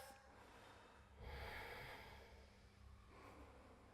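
One slow, deep breath is drawn in and let out close to the microphone during a seated neck and shoulder stretch, a soft airy rush with quiet room tone around it and no talk.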